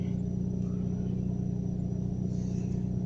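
Idling car engine with its muffler deleted, heard from inside the cabin on an early-morning warm-up: a steady, loud low rumble with a constant drone, no talk.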